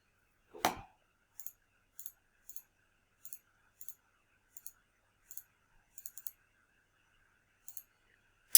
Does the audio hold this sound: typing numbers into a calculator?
yes